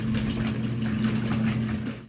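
A Costway portable washing machine on its rinse cycle gives a steady, loud motor hum with a constant low drone and washy swishing above it, running without a break until it cuts off.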